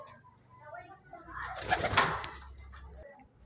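A pigeon coos nearby, a soft, low throaty call that rises to a brief louder burst midway before fading, set against a quiet background.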